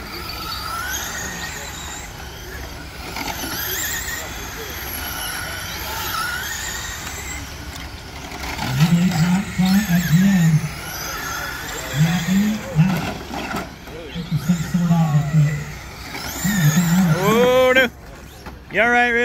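Stock car engines rev and roar in a Sportsman heat at Send It Raceway, loud and close with rising throttle bursts and squeals, while people talk over the racket.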